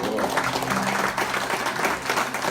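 A small crowd applauds a live music performer at a creative commons venue, a short burst of steady, moderately loud clapping heard fairly close.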